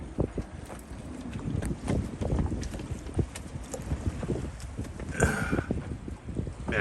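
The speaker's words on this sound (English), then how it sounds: "Maximum wind gust in the last 5 minutes is 36 knots." Strong wind gusting to 36 knots buffets the microphone in rough, uneven gusts aboard a sailboat at anchor, with knocking and slapping sounds mixed in throughout.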